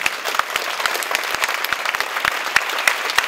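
An audience at a memorial service applauds steadily, a dense patter of many hands clapping at moderate volume without a break and with no one speaking.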